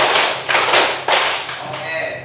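Hand claps in a classroom clapping-count routine, a handful of loud, sharp claps in irregular bursts close by, each ringing briefly, with a voice heard between them.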